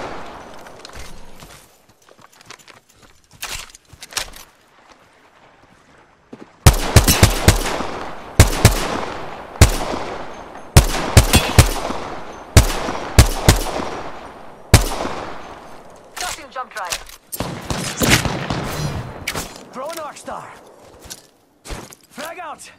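Rapid gunfire in the video game Apex Legends, with bursts of automatic and single shots, some close and sharp, others quieter, coming in uneven clusters while players talk over it.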